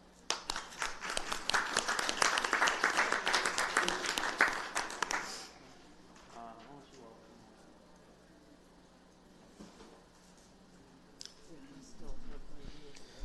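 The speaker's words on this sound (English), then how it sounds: "And I think that deserves a round of applause." Applause fills a city council chamber for about five seconds, loud and dense at the start, then fades into quiet room murmur and some talking.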